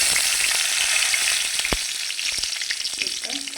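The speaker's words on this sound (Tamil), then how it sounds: "ஸோ நான் எடுத்து வச்ச சீரகத்தை அப்படியே வந்து இதில் போட்டேன்" Cumin seeds crackle and sizzle loudly in hot oil while a spinach-style greens dish is started, a dense close fry with sharp pops and a spoon stirring, no voices.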